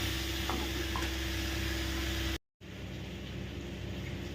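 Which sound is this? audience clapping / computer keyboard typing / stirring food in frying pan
stirring food in frying pan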